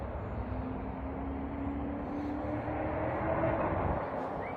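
An XK A280 P-51D Mustang RC plane flies at sunset with its throttle opened back up, a steady distant motor drone that swells slightly toward the end, with no talk over it.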